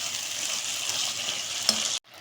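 Chicken coated in sauces cooks in a pan with a steady close sizzle and one brief utensil tap, then the sound cuts off abruptly.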